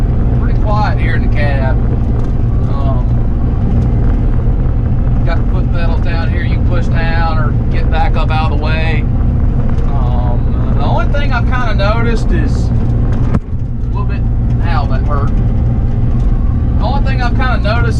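A Bobcat E35 mini excavator engine runs with a steady low drone, heard from inside the cab under someone talking throughout.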